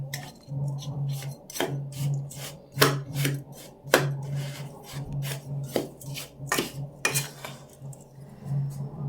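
Rice flour and grated coconut being stirred in a pan, with a spoon repeatedly scraping and knocking against the metal in an uneven rhythm of sharp, close clatters and no talking.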